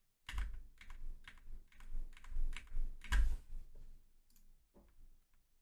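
Close, quiet clicking of a computer keyboard, a run of separate key presses in uneven rhythm with a few sharper taps and short pauses, heard alone without any talking.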